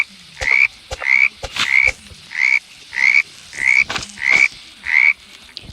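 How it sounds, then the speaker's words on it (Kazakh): Frogs croak in the forest of the video game 99 Nights in the Forest, a loud, close call repeated eight times at an even pace with a wet clicking edge to each croak, heard on its own. "Бізде құрбақа, яғни бақалар."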